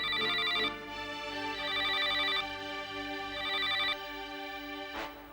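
A telephone rings in repeated electronic bursts, about three trilling rings with short gaps, clear and close, followed by a brief click.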